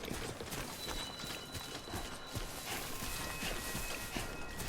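Footsteps in the video game Death Stranding, a steady run of faint crunching steps over a dense, noisy game backdrop, with no one talking.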